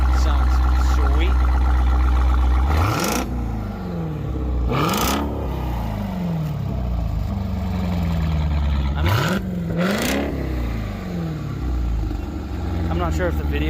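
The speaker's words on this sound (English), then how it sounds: "Yep, Borla Atak on this Durango Hellcat." A 2021 Dodge Durango Hellcat with a Borla Atak exhaust sits at idle and is revved four times in quick blips, each a loud rising roar that falls back to a deep burble, with a voice talking over parts of it.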